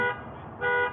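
Car alarm going off near a 2016 F350 single-wheel flatbed truck, a loud electronic tone holding steady, dipping briefly, then rising again, alone without talk.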